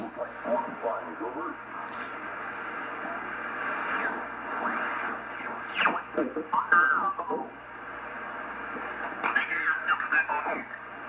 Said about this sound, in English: That sounds like upper sideband.